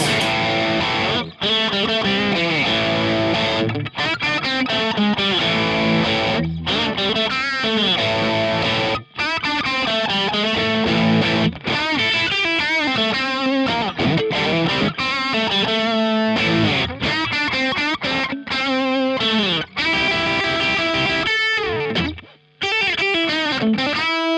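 Heavily distorted, high-gain electric guitar through an AC30-style amp rig with an OD 808X overdrive plays loud, dense riffs with sustained chords and quick runs, nearly continuous with only brief pauses.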